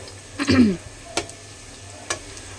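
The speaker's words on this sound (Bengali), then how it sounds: "পেঁয়াজিটা আস্তে করে রেখেছি গ্যাসটা কারণ ভালো করে ভাজা হওয়ার জন্য" Onion fritters fry gently in a pan over low gas, a faint sizzle beneath a few sharp scraping and clinking strokes of a spatula, with no talking.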